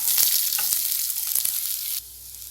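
Onions frying in hot oil for samosa filling, a loud, close, hissing sizzle with a few stirring knocks, easing suddenly to a softer sizzle near the end.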